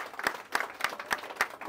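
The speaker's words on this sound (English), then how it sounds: "Let's give them a big round of applause." An audience at a Case knife collectors' event claps in a brief, moderately loud burst of applause, with individual claps audible in a steady patter.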